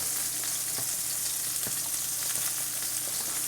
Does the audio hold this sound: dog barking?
no